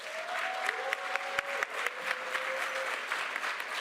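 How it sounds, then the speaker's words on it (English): An audience applauds steadily at a summer Kente robing graduation ceremony. The clapping is dense and sustained at moderate volume, with a few sharper individual claps standing out and faint voices beneath. "Let's give them a round of applause."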